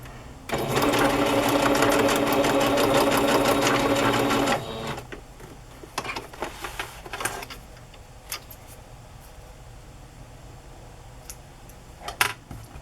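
A sewing machine stitches down the center of paper ephemera for a book signature, running as a steady loud mechanical whir for about four seconds, then stopping, followed by scattered handling clicks and rustles.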